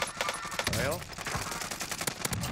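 Gunfire in Call of Duty: Warzone, with rapid bursts of shots and sharp cracks over a busy game mix, a voice speaking briefly among the shots.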